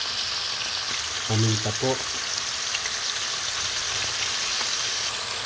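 Salsiccia sausage frying in a pan, a loud continuous sizzle throughout, with a brief spoken voice partway through.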